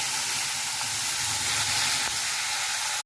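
Boiled kharkol leaves drop into spices frying in hot oil, giving a loud, steady sizzle and hiss that fills the whole stretch and then cuts off abruptly.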